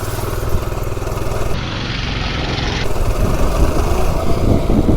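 A Kohler CH270 small engine on a mini bike drones steadily close by during a 0 to 30 and top speed run, its rough putter building slightly louder toward the end; no talking.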